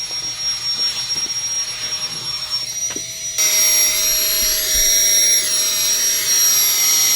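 A Flextail Tiny Pump 2X sucks air out of a bag with a loud, steady whirring whine that rises in pitch and intensity partway through, close and continuous with no talking.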